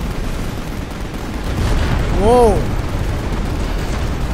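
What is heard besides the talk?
explosion from Final Fantasy XV video game battle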